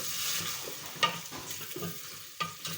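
Potatoes sizzling in a thermal cooker pot while being stirred, a steady frying hiss with a few close scraping and knocking strokes of the spoon, no talking.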